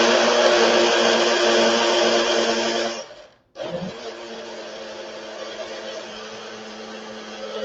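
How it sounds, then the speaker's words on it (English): A small personal travel blender whirs loudly as it mixes a chocolate nutrition shake, then briefly cuts out and restarts with a steady, slightly lower motor drone. "I did get my little personal blender from Walmart, really good for travel"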